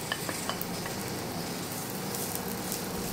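Garlic sizzling steadily in hot oil in a pan, a dense close hiss with faint scraping stirs, no voices.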